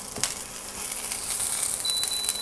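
Mussels stir-fried with curry paste and long beans in a wok give a soft, steady sizzle and crackle, with occasional scraping of the spatula punctuating the hiss.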